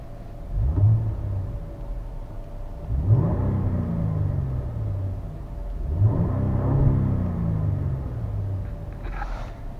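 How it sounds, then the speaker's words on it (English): A Jaguar XJ sedan's engine is revved three times while parked, each blip rising to a throaty peak and falling back to a low, steady idle rumble, close and with no talking. "You want to give it a little rev?"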